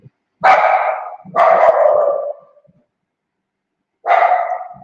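A dog barks three times, loud and close. Two barks come in quick succession, then a pause before a third. There is no talk around them.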